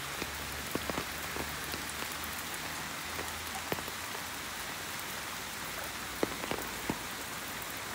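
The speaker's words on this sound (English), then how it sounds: "Rainy day, and I am showing you the forest of rain or of Norway and in the rain time." Rain falls steadily in a forest in Norway near Kristiansand, a dense even patter with scattered louder drops landing close by, and no voices.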